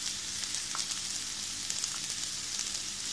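Steady close sizzle of a Moroccan filling of onion cooked in olive oil frying in a pan, with tuna, itself warmed in oil, being added; continuous bright crackle with faint pops, no voices.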